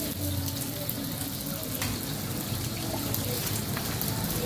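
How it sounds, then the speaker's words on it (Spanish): An egg fries in a pan for a Mojadito Amazónico dish, giving a continuous close sizzle and crackle with occasional spits and no voices. "porque en este punto también voy a freír el huevo"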